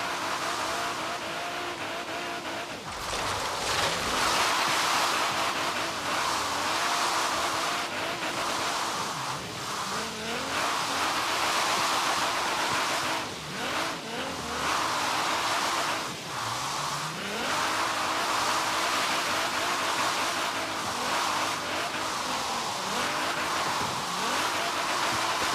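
A 1000-horsepower Nissan 240SX drift build in Forza Horizon 3 roars continuously at high revs, engine pitch repeatedly rising and dropping through shifts and slides, loud and close throughout with tire squeal mixed in.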